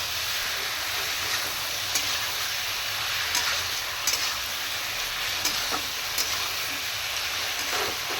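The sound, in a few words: cumin, ginger, green chili and garlic paste sizzling while being fried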